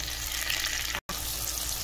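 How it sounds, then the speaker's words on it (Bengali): Potatoes and tomato sizzle and fry steadily in a pan while cooking a Bengali fish-head dish, a continuous close hiss with a brief silent gap in the middle. "আলুটা ভাজা হয়ে গেছে, এবার টমেটোটা দিয়ে দিচ্ছি।"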